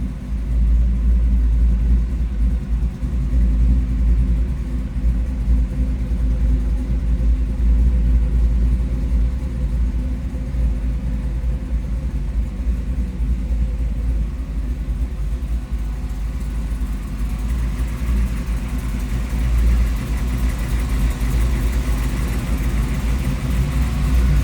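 A 1932 Ford Roadster Highboy engine runs close by with a steady low rumble, holding a throaty idle that swells slightly in the latter half, with no one talking over it.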